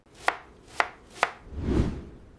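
A knife chops onions into large pieces on a board: three sharp, evenly spaced cuts, then a duller, heavier thud with a short scrape, close and clear.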